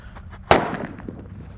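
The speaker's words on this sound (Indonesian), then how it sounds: "Kita nyalakan semua mercon yang bledos guys" A single firecracker goes off with one sharp, loud bang midway, trailing into a brief crackle amid quiet background noise.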